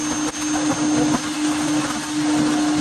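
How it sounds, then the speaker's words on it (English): A shop vac fitted with a voltage regulator gently vacuums bees from a hive, a loud continuous whirring motor drone with a steady hum throughout and small flutters as the bees are drawn in. "take this hive down with a shop vac that included a voltage regulator to gently vacuum up the bees"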